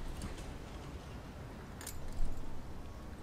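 Metal keys jangle softly in a quiet indoor space as someone tries a key in a lock, with a slightly louder rattle near the end.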